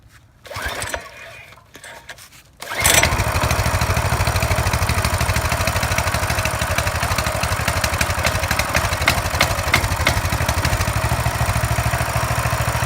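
Coleman CT200U 200cc minibike engine, with the choke on, catches after a brief start and then runs at a steady, loud, close idle with an even chugging rhythm.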